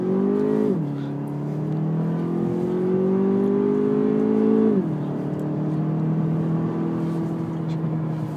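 The 2.0-liter turbo four of a 2014 Cadillac CTS4 pulls loudly from inside the cabin while driving, its tone rising steadily through two gears with clear drops at each upshift.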